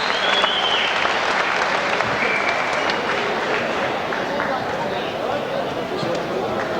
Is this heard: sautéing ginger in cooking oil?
no